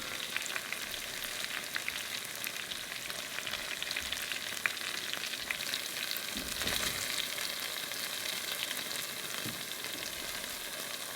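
Beef searing in a hot pan for stew gives a steady, close sizzle and crackle that runs on without pause, with no one talking.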